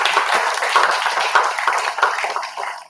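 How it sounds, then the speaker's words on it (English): Audience applause, a dense patter of many hands clapping close by, steady for a few seconds and then gradually thinning. "Please give them a big round of applause."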